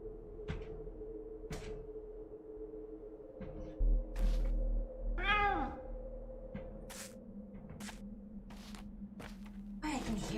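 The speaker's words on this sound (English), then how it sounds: "Wait, I can hear the cat." A cat meowing inside the video game Pathologic 2, a rising and falling wail standing out over a steady low game ambience, with soft clicks and footsteps scattered around it.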